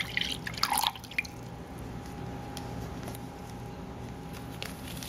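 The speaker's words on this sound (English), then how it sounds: "Right now I'm going to add some rice vinegar." Rice vinegar poured into a salad dressing for a Thai seafood salad: a short, close splashy trickle in the first second, then a few faint drips over quiet room tone.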